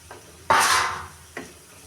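Spoon stirring red sauce pasta in a pan, with carrot, ginger and chilli flakes, a brief loud scraping swish followed by a softer second scrape, close and without talk.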